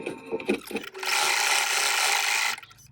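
An embroidery machine stitches the placement outline for an inner wing appliqué on a butterfly pouch, a steady close mechanical whirr running about a second and a half after some faint handling noises.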